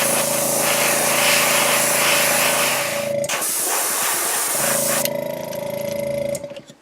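An airbrush sprays white paint onto a jerkbait fishing lure as a close, steady hiss, breaking off briefly midway, then resuming before fading out at the end.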